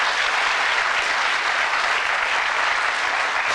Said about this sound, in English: Give him an encouraging round of applause as he throws to charity